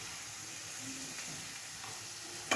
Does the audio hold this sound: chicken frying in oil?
yes